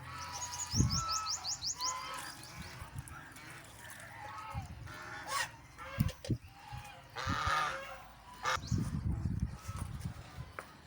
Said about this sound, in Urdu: یہ بطخ اپنی طرف سے یہ غوطے لگا رہی ہے۔